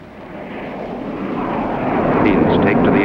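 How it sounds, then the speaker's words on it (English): Aircraft climbing away from an airfield ahead of a nuclear test, their engine roar forming a broad steady rumble that swells gradually louder across the stretch, heard alone without talk. "Planes take to the air, carrying sensitive instruments and nuclear scientists"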